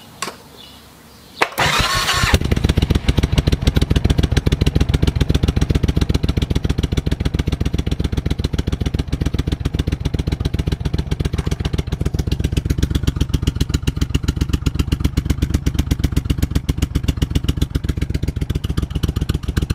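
A Suzuki Intruder VS 1400 motorcycle with its original exhaust pipes starts after a brief quiet moment, then settles into a loud, steady, close-up idle with an even, rapid pulsing beat that lasts to the end.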